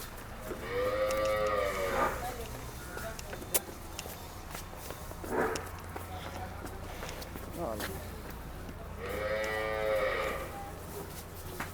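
A pregnant Nili-Ravi buffalo lows twice, long and loud, once early and once near the end, with shuffling footsteps and someone talking in between.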